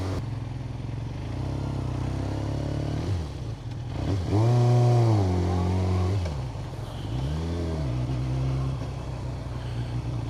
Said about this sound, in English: I forget that you have to give it a bit of throttle when pulling away on this bike.